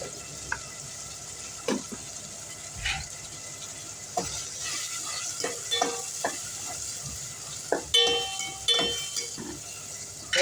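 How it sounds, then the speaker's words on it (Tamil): Tomatoes with a little salt sauté in a pan for a South Indian fish curry, giving a constant close sizzle broken by scattered scrapes and clicks of a stirring spoon, with no talking. "இது நல்லா வதங்கட்டும்"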